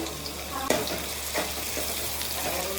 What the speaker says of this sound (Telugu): ఇంకా ఉల్లిపాయ పచ్చిమిర్చి వేసుకున్నా అండి